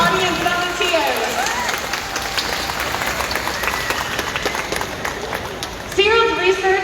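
An outdoor arena audience at a SeaWorld Orlando orca show applauds, continuous clapping mixed with crowd noise and a loud voice over a sound system, with whistle-like tones near the end.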